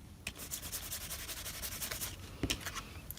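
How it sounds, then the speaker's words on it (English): A microfiber cloth wipes excess embossing powder off a stamped surface in quick, repeated rubbing strokes, soft and close, ending with a couple of firmer scuffs. "I always use my microfiber cloths to wipe off the embossing powder for the excess, and this has a lot of excess."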